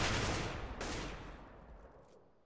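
Rifle fire from an AK in a competitive video game match, a loud burst of broadband gunshots with a second sharp report partway through, then decaying and trailing off.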